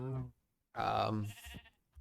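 Sheep bleating in the Minecraft video game, on a farm with cows and chickens; two short bleats, one brief and one longer, loud and close, with a gap of silence between.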